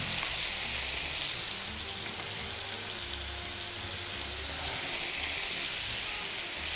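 Finely chopped onion fries in a pan for an Irish beef stew with stout, a steady bright sizzle and hiss close by with a faint low hum underneath and no talk.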